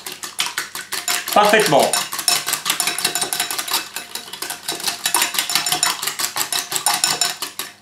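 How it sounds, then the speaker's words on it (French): Egg and cheese whisked together in a bowl for cheese tartlets, a fast, loud, steady rhythmic clatter of the whisk against the bowl that runs throughout, with a short spoken word near the start. "On vient casser un petit peu l'œuf et on vient mélanger les deux ingrédients"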